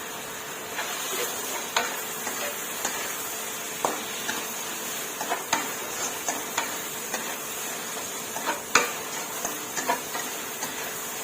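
Vegetarian mushrooms stir-fried with pounded chili and holy basil in a pan give a steady hiss and sizzle, with scattered scraping clicks from a spatula, close and continuous, no voices heard.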